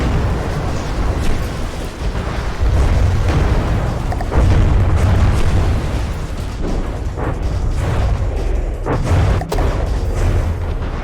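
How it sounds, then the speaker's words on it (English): Rockets bursting against an enemy flying craft in the game From the Depths: a loud, continuous barrage of booming explosions with sharp cracks and pops scattered throughout, dense and close. "the rockets are doing a number on this thing"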